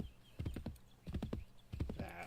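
A horse in Assassin's Creed III trots along in rhythmic clip-clop bursts, three clusters of hoofbeats with brief pauses between, fairly close and clear.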